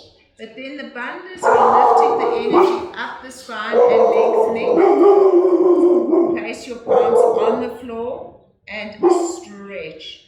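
Dogs bark intermittently in a home during a yoga class, mixed under a steady instructor's voice talking throughout.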